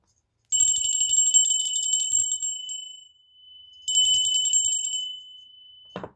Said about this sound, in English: they're telling me to ring the bell